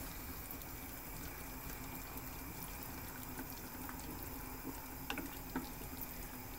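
Spaghetti boiling in a pot of water on a stove turned down to a gentler boil, a steady bubbling hiss with faint clinks, alone without talk.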